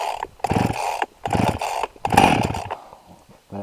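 A chainsaw's small engine sputters and catches in short bursts while being started with the choke out, several brief firings separated by pauses, close and loud with no talking.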